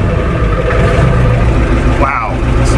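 A Ford diesel truck engine runs loud and close with a steady low rumble after starting, with a brief rising whine near the end.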